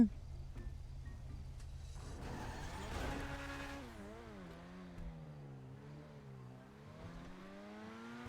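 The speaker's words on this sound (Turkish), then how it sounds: "araba ne kadar hızlı gidiyor görüyor musunuz?" A Dewbauchee Champion car in GTA 5 Online drives fast: engine note climbing and falling through gear changes, with rising and sliding revs, fairly quiet and steady, alone without talk.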